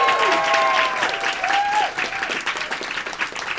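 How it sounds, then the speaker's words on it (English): Live audience applauds guests Minnie Rahman and Lucy Winkett at a recorded podcast show, a dense steady clapping that swells and holds loud throughout with a few whistles cutting through near the start. "could I please have a huge round of applause for our incredible guests, Minnie Rahman and Lucy Winkett"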